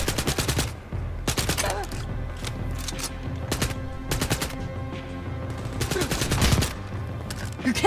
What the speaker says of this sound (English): This new pistol's fucking nice. It's my new silenced gun.